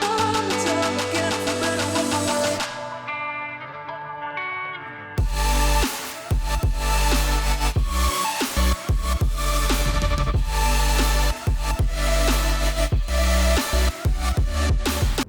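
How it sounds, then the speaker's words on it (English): A loud electronic dance track builds with bright synths, drops out briefly, then slams into a heavy drop with thumping bass and punchy rhythmic chops. "The drop that we're going to be working in today, it sounds like this."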